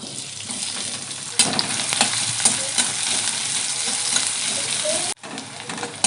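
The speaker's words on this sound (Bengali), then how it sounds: "পেঁয়াজ ভাজা হয়ে গেছে" Chopped onion sizzles in hot mustard oil in a kadai, a steady dense hiss broken by stirring scrapes. A brief drop-out comes near the end, then the frying resumes.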